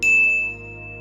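A bright notification bell dings once, a single clear chime ringing out and slowly decaying, loud and close with no voices.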